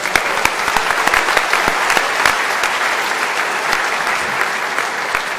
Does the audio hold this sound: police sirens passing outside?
no